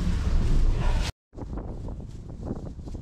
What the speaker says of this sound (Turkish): burada yüksek ihtimalle çok rüzgar var